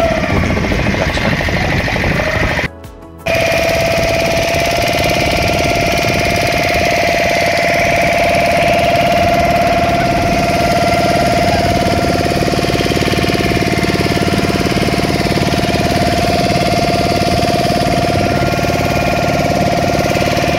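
Motor boat engine droning steadily through a ride out from Talsari beach, a loud continuous hum with a sustained whine above it, briefly cut out early on, no talk over it.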